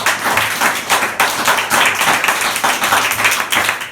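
A church congregation claps loudly and steadily during a sermon on the resurrection, many hands overlapping in a dense, rhythmic wash with no voices.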